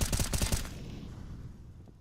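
Rapid gunfire sprays in Counter-Strike, a dense burst of repeated shots for about the first half-second to a second, then fading into quieter game ambience with scattered low rumble.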